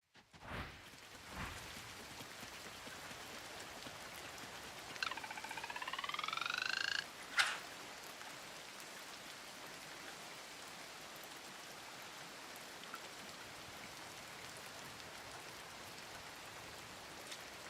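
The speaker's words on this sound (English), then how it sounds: "It's raining right now." Steady rain falls in the farming game Coral Island, a constant soft hiss with a frog-like croaking call midway and a couple of sharp cracks early on.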